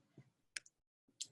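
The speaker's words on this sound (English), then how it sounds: "she's typing" Faint keyboard typing with a few quick separate clicks and short pauses, quiet and close, with no talking.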